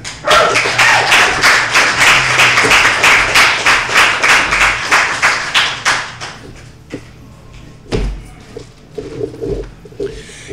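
A comedy club crowd gives a comedian an even run of applause and claps that thins out after about six seconds. Scattered claps and thumps follow, along with a few faint voices.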